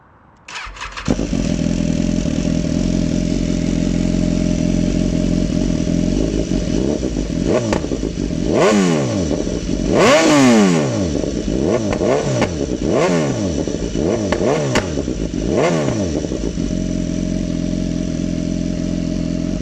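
BMW S1000R motorcycle fitted with Black Widow exhaust headers and a Toro end can, starting up and idling loudly up close, then revved several times in rising and falling blips before settling back to idle.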